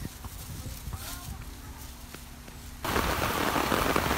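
Afternoon rain falling, a soft patter that jumps abruptly to a loud, steady hiss of heavier rain near the end.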